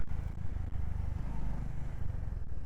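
A Honda H'ness or CB350 motorcycle engine runs smoothly at a steady idle, a low continuous rumble close by with no voices over it.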